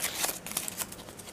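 Scissors snip through paper comic book petals, a quick run of crisp, close cuts and rustles lasting barely more than a second, with no talking.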